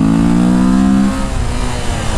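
A Honda XRE 300 motorcycle engine revs hard on a ride, a loud close buzzing tone that holds steady for about a second, then drops away as the throttle is released.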